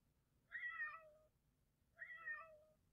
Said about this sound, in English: when I do a scan, then it says meow